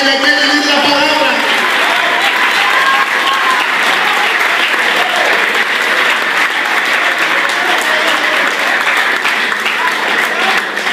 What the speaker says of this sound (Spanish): Un aplauso fuerte a Dios que vive